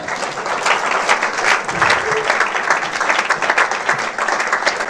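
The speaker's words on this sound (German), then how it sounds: "Ihr dürft auch klatschen, wenn ihr möchtet." A church congregation claps for its worship band after a sermon-service song, a full, steady wave of applause close and loud throughout.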